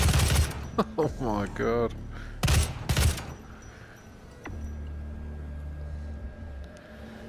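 Heavy gun in the VR video game DOOM VFR fires a few sharp, loud blasts, followed by a low steady hum, with a man exclaiming between the shots.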